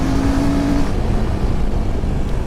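The new Royal Enfield Himalayan motorcycle's engine pulls hard under acceleration, a loud, steady drone with strong rumble and dense road and wind noise.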